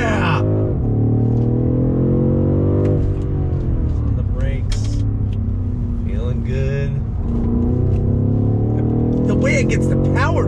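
A 2021 BMW M550i sedan accelerating hard on throttle from a slow roll, its engine note rising steadily and loud from inside the cabin, with brief shift dips and occasional voices over the sustained drone.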